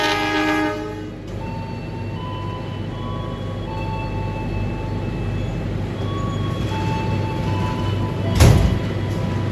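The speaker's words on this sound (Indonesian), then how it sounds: "itu yang di jalur 1 merupakan kereta api Sancaka dari stasiun Surabaya Pasar Turi dengan tujuan ke stasiun Cilacap" Sancaka passenger train at Kutoarjo station in Indonesia, running on track 1: a loud, continuous rumble of railcars rolling close by, with a short horn-like burst near the end.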